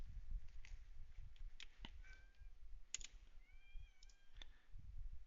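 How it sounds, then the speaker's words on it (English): A kitten meows repeatedly in short, sharp cries scattered through the passage, mixed with frequent keyboard clicks and tapping from a nearby computer setup; no talking. "That kitten is just screaming."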